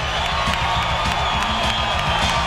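Spectators cheer and roar throughout at a strongman event in Riga, Latvia, during a carrying lift, a steady dense crowd wash with a low rumble and no single voice standing out.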